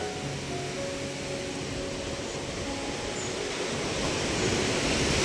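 Floodwater from a monsoon-swollen river in Konkan rushes over a village bridge, a steady broadband roar close by that swells slightly louder toward the end, with no voices.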